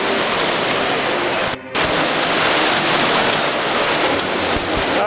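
Waves wash into a cave entrance on an Ontario shoreline, a loud, continuous rushing surge close to the microphone with one brief dip partway through.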